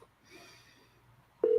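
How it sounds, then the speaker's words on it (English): Telephone dialing on an office cold-calling line: faint quiet hiss, then a single loud, steady dial tone cuts in abruptly near the end and holds. "Go ahead and pick up the phone and make a call."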